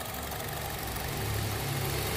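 A 2009 Honda Jazz S automatic engine idles smoothly and steadily, a close, even low hum with no knocking, heard alone without talk.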